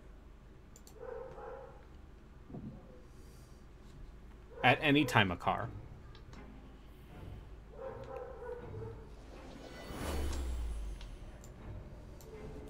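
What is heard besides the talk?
dog barking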